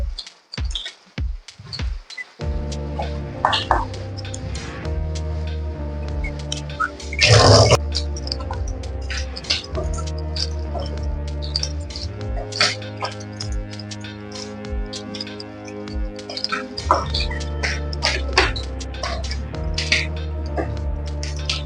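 Anchovies sizzle and crackle steadily in hot oil, a continuous spitting hiss with scattered pops, close up and with no one speaking.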